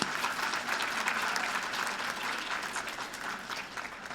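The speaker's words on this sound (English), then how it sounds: "So let's give them a warm round of applause." A luncheon audience claps in warm, sustained applause, a dense steady patter of many hands filling the room at even loudness throughout.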